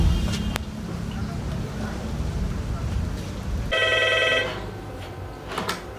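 At a fire station, a telephone rings while a call is placed to the internal operator. A rumbling, noisy stretch comes first, then a clear electronic ring tone starts abruptly partway through and continues to the end.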